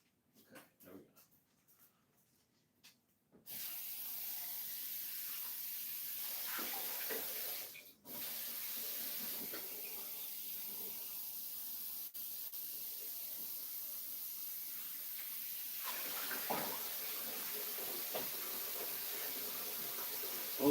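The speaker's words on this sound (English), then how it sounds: "I'm gonna pour some warm water into it." Warm water pours into seed-starting soil for germinating pepper seeds, making a steady soft hiss that runs for many seconds after a few quiet handling taps, with a brief pause partway through.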